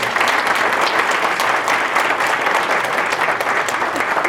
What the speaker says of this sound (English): Another round of applause for Gina Colazzo.